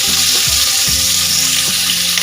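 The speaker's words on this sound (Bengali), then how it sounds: "তেলটা আমাদের গরম হয়ে গেছে। তো আমরা এর মধ্যে দিয়ে দেবো সিদ্ধ করে রাখা ফুলকপি।" Steady, loud sizzling of boiled cauliflower frying in hot oil, a dense crackling hiss with low thumps of stirring throughout.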